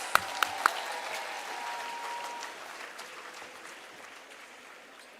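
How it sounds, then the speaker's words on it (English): An audience at a school Gandhi Jayanti celebration breaks into applause, opening with a few sharp close claps before settling into steady crowd clapping that slowly fades. "let's give them a huge round of applause."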